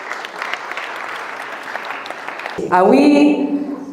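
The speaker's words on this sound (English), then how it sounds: "big round of applause for yourself" Audience applause, steady and moderate for a couple of seconds, then masked by a loud tonal sound as the clapping continues underneath.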